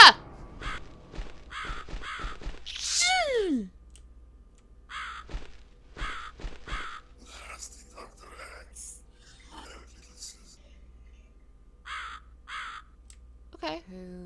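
In The Cat Lady video game, a crow caws harshly several times amid game sounds and a low background hum, and a voice speaks in between.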